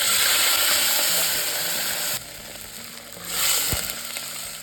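Herbal powder fries in hot coconut oil while a homemade burn remedy is made. A dense, loud sizzle crackles up close and continuously, swelling and easing without any talk.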